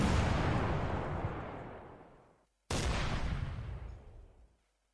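Two long rumbling volleys of gunfire in a Command: Modern Operations battle, each loud at the start and fading away, with a short gap between them and no voices.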